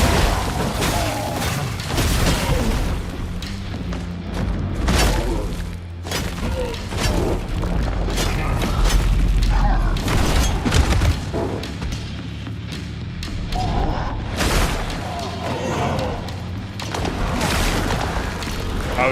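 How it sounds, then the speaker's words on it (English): Enemy projectile attacks in the video game Mortal Shell 2, a run of deep booms and heavy thuds that repeat irregularly throughout, dense and loud, with crashing impacts layered over a rumbling game soundtrack. "he's shooting those projectiles out now"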